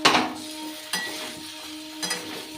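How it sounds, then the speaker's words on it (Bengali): Fried potatoes are stirred into cooked masala in a pan for a vegetarian aloo dum, giving three distinct scraping stir strokes over a soft, steady sizzle, close and moderately loud with no talking. "সেই ভাজা আলুগুলো মশলার মধ্যে দিয়ে ভালো করে মিশিয়ে নিচ্ছি"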